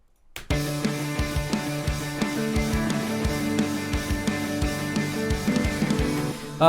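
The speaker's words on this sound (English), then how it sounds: "I just used the grooves from EZX Pop Punk's Groove Pool" Pop punk drum groove from Superior Drummer 3's EZX Pop Punk pack, with a steady driving beat of kick, snare and cymbals played alone at full level after a brief silent start.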